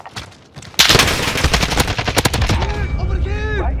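AK-74M rifle fire in Modern Warfare 2019, a loud close burst of rapid automatic shots lasting about two seconds, followed by a voice speaking.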